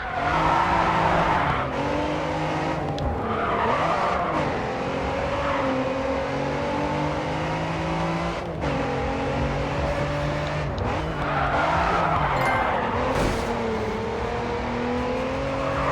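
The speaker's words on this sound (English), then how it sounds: "You'll lose control of the car if you keep cornering too quickly" Racing car tyres squealing and skidding through corners in the video game Grid 2, engine droning steadily beneath with repeated slides over about sixteen seconds, loud and continuous without talk.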